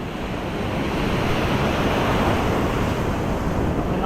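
Ocean surf rolls and breaks steadily onshore at a fishing spot, a broad wash of water noise mixed with wind buffeting the microphone, moderately loud and continuous.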